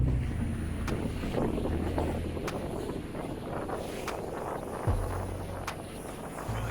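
Wind buffeting a microphone aboard a sailboat making passage in lumpy seas, a steady broadband rush with low-frequency rumble, occasional gusts and faint water slosh, no voices.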